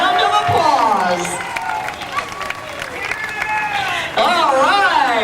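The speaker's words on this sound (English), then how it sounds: "I think you deserve a round of applause" A crowd at an outdoor picnic honoring Diller High School's class of 1957 alumni breaks into applause and cheering, a dense clapping wash with voices talking over it throughout.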